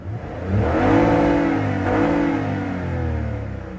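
A 2006 Lexus IS250's six-cylinder engine revs up, holds a smooth rising and falling tone, then settles, heard close and loud with no talking.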